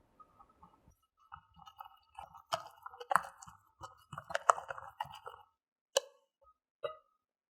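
A spoon or whisk stirs apple cake batter, a low-sugar, oil-free mix, into a thick paste in a bowl, giving soft, quiet, irregular sticky taps and clinks close up, with no voices.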